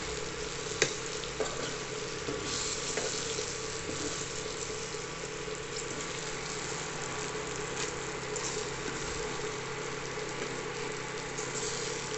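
Stuffed brinjal curry sizzles steadily in a pan as sambar powder is stirred in, a continuous faint frying hiss with occasional soft scrapes.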